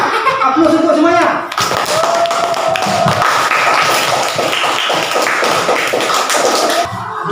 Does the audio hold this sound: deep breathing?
no